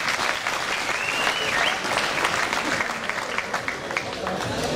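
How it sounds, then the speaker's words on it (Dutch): Steady applause from a boxing crowd for the winner of the Philogene Power vs Fernando Reemnet match, dense and continuous throughout with a faint voice briefly rising over it. "Geef ze allebei een applaus, dames en heren."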